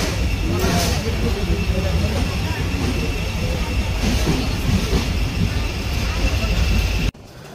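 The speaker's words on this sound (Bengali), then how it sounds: "দেখতেছেন আমাদের ট্রেনটা চলা শুরু করছে" Nilsagar Express train rolling out of Dhaka heard from aboard, a steady loud rumble of wheels and carriage noise with a faint squeal, and people talking under it; the noise drops away abruptly at the end.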